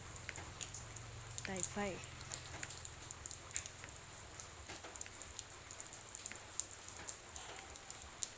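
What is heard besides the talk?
heavy rain falling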